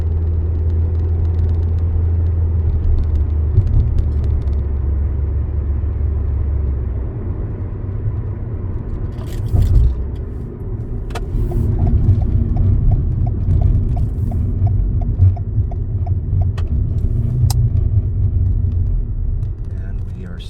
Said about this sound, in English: This should be fun and bouncy when cars start passing over the metal grating.